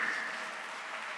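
A brief steady wash of audience applause at a county annual address follows a live musical performance, dense and even for about a second.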